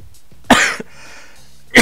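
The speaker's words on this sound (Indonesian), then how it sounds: "Sampai batuk." Two sharp, loud coughs about a second apart, close to the microphone, with a soft breath between them in a quiet room during a Photoshop CC 2018 tutorial.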